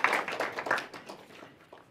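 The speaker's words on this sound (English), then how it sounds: "So let's applaud to them." Faint applause from the audience at a youth pitch competition final, a brief patter of claps that tapers off quickly into near quiet.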